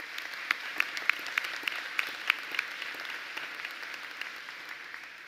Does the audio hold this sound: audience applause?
yes